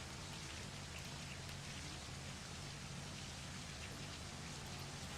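Steady rain falls at a touring car race track in Montreal, a constant even hiss of drops on surfaces with a low rumble underneath, with no voices.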